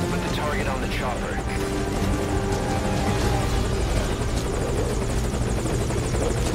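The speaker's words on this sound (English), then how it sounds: "Put the target on the chopper." Helicopter in Metal Gear Solid V, its rotor chopping and engine drone loud and constant throughout, close by, with voices and game sounds layered over it.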